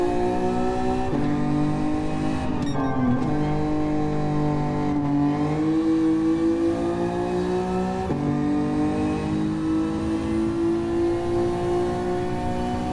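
A 1973 GTR race car engine drones loud and close as the driver drops through the gears, revving in a steady, tonal roar. Sharp pitch breaks mark each downshift, about three across the span, with the note sliding between them.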